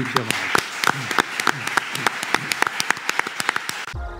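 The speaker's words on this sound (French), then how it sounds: "Applaudissements pour Pierre-Marie Perrin." Light audience applause with distinct individual claps over a murmur of voices, fairly quiet and scattered, ending abruptly.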